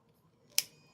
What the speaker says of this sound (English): take your pliers and go around, and then cut this last part off